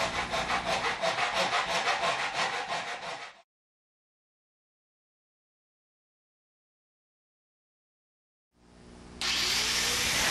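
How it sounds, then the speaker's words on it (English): A hand saw cuts metal U-channel edging in a 45-degree mitre guide with rapid, rhythmic rasping strokes close up, then several seconds of silence before loud grinding noise starts abruptly. "use the 45-degree slots to guide the saw and make my cut"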